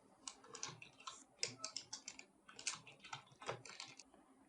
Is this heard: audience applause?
no